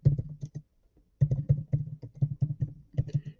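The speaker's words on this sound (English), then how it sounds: "I can go ahead and type this." Someone types on a computer keyboard, with a short burst of quick key clicks, a brief pause, then a longer run of steady, close, crisp keystrokes.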